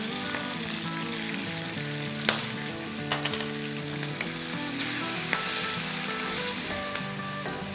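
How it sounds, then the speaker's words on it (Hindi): Chili pepper pieces sautéing with turmeric powder in a pan, giving a loud, steady sizzle and frying crackle close by, broken by occasional clinks and stirring scrapes. "हल्दी पाउडर के साथ थोड़ा सा सॉटे करेंगे 30-40 सेकंड"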